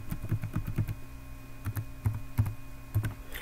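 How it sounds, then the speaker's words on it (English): A password is typed on a computer keyboard, producing close, quick runs of key taps in short bursts with brief pauses between them. "So provide that username and type the password."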